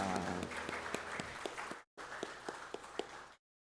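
Congregation applauding during a Sunday morning church service, a short burst of hand clapping at moderate distance that breaks off briefly, resumes and then stops.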